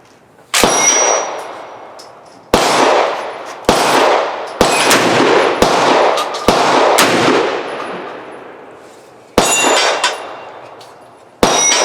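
A G Force GF99 DLX 12 gauge shotgun fires magnum birdshot loads in a series of loud, sharp blasts, each followed by a ringing metallic decay, spaced irregularly about one to two seconds apart with a longer pause before the final shots.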